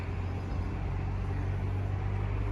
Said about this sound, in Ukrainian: Машина тільки заїхала.